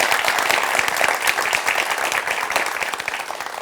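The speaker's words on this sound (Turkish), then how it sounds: "Bir alkış alabilir miyiz?" Steady, dense applause from a large crowd, continuous and full throughout with no pauses.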